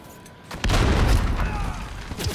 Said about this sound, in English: point blank him with a fucking grenade launcher and got a hit marker